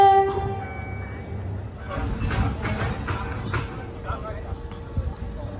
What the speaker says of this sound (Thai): พิเศษมากๆนั่งรถไฟโดยสารเหมือนกับ